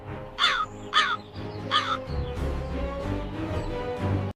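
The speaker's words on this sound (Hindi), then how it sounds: "कौवा सोच में पड़ गया, ताज, अब क्या करूं?" A crow caws three times in quick succession, loud and close, over a low droning musical background.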